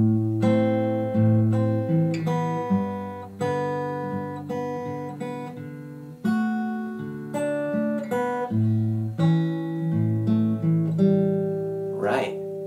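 Fingerpicked guitar plays a steady phrase of plucked bass notes and chords, close and clear, with a brief scrape near the end; no talking.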